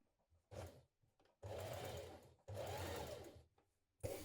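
A sewing machine stitches close to a trouser pocket seam in three bursts, a short one and then two longer runs, with pauses between them and another start at the end.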